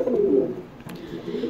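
Pet pigeon cooing in low, soft repeated coos, fairly close and steady across the moment, with a brief faint click midway and no talking.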